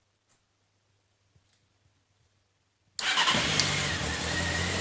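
A Honda Hornet 599 motorcycle with a new lithium battery is started after sitting unused, on choke: a few faint clicks, then the engine catches abruptly and settles into a loud, steady idle close by.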